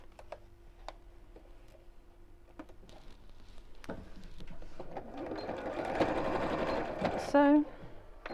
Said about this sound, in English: And sew straight across the end.